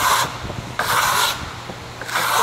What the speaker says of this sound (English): we can burn the piece as well from this steel trowel